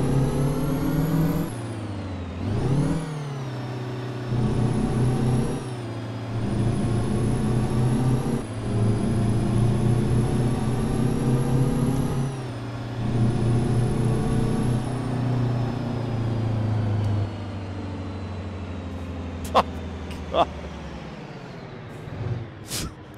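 A truck engine in a driving video game, a modded Brockway FTG build, is revved hard again and again up to its rev limiter, with sustained loud climbs and sudden drops, and a few clicks near the end.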